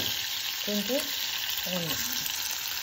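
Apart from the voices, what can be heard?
sautéing green chilies in a pan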